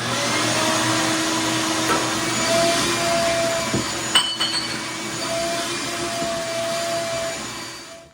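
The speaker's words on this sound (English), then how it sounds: "Now I'm going to use the shop vac to pull out everything inside." A shop vac sucks debris out of a computer case, a steady loud whining drone with a few clinks and rattles near the middle as bits are pulled through the hose.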